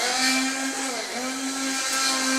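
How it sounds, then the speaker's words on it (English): A handheld stick blender purees asparagus soup, its motor whining loudly and steadily up close, with the pitch dipping briefly as the blade works through the soup. "So I'm just going to whiz my soup."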